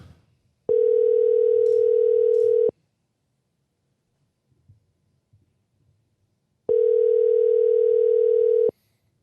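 Telephone dial tone heard while ringing a guest for a motocross podcast: two loud, steady tone bursts of about two seconds each, separated by a quiet gap, with no talking.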